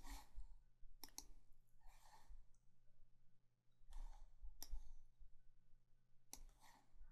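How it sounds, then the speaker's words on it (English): Several quiet mouse clicks land one at a time at irregular intervals over a soft background hum, with a little faint breathing in between. "so I'm clicking Next again"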